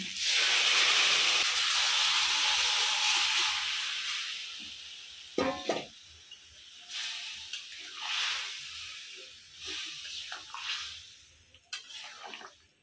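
Pumpkin stalk curry tipped into a hot pan of fried spices gives a loud burst of sizzling steam that slowly fades, followed by a few sharp clinks and softer stirring sizzles. No one speaks.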